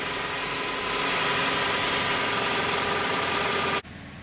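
Subaru Forester FB engine from a 2009-13 third-generation model running at idle, a steady broadband hum with faint harmonic tones that continues evenly, then drops sharply in level near the end.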